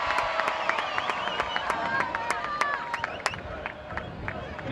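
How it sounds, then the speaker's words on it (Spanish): A festival crowd at the San Luis fiestas in Granja de San Ildefonso applauds a maid of honour, scattered sharp claps over a murmur of babble and cheering, with voices rising and falling underneath. "un fuerte aplauso, muy especial"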